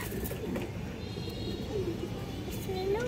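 A pigeon coos softly at a farm loft where pigeons are sold, a few low murmuring calls near the end over steady background noise and faint voices.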